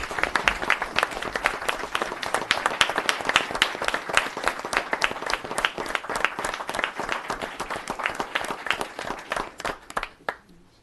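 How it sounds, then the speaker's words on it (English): Audience applause at a town board meeting in Yorktown, a dense, steady round of many hands clapping close by for about ten seconds, with a brief cheer near the start, then tapering off at the end. "So I'd ask everybody to give Carl a nice round of applause and welcome him to Yorktown."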